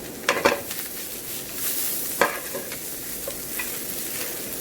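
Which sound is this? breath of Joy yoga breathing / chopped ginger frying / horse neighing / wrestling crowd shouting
chopped ginger frying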